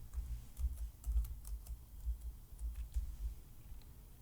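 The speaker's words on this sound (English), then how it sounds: "I'm going to enter my password." Computer keyboard being typed on in a steady run of soft, close keystrokes over low background hum, with no talking.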